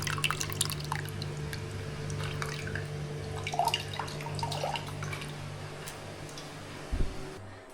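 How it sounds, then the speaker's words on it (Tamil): Tamarind water is strained for a village-style fish curry, with scattered small drips and splashes falling close by over a steady low background hum, and one louder thud near the end. "இப்போ புளி கரைசி வடிகட்டிக்கிட்டு இருக்கிறேன்"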